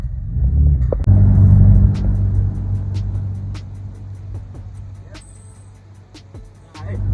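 A Ford Ranger Raptor rumbles while driving on the way to a race in Parys, a deep engine drone that swells early and then settles into a steady low hum, with faint clicks over it.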